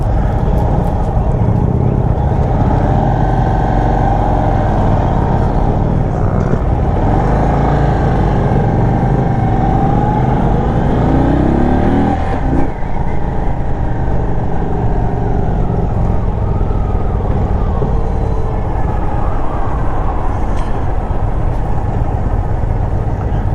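Sport Chief RT motorcycle engine with a big motor revving freely while riding, a loud continuous engine drone with rising and falling pitch throughout, heavy wind rush over the microphone.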